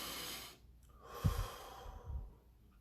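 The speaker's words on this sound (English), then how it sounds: "Take 3 deep breaths" Slow, deep breathing heard close and soft: a long airy exhale that fades, then two low, breathy inhale-exhale puffs, with no talking.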